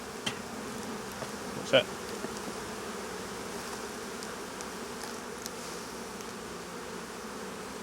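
Honey bees hum steadily around an open hive with drone cells on the comb, a continuous low buzz under occasional soft handling sounds and a brief spoken remark.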